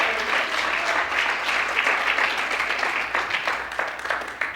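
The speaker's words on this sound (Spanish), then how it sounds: "Dale con esas mismas manos un fuerte aplauso al Señor." A large church congregation claps steadily and loudly for several seconds, a dense wash of applause with no voices standing out.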